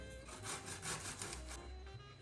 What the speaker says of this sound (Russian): Берем картофель, вот такой у меня среднего размера, и также натираем на крупной терке.